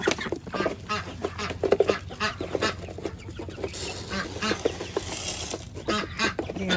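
Young chicks feeding from a length of gutter used as a feeder, with busy pecking and clattering close by and overlapping squawking and honking calls from nearby fowl.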